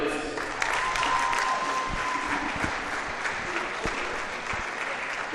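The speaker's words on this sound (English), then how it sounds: "One more big round of applause." Steady, sustained crowd applause in a high school gymnasium honoring senior girls basketball players, a broad wash of clapping with scattered cheers that holds for several seconds.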